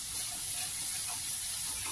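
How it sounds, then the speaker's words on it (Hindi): Onions fry in a pan, a steady close hiss and sizzle that holds evenly for a couple of seconds with no voices. "प्याज हमारा ऑलमोस्ट भून चुका है,"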